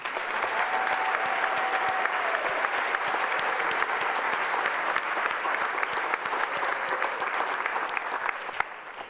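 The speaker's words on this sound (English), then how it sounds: "let's give a big round of applause to our middle and high school volunteers" An audience at a youth recognition awards ceremony gives a sustained round of applause for middle and high school volunteers, dense clapping filling the room at an even level from start to finish.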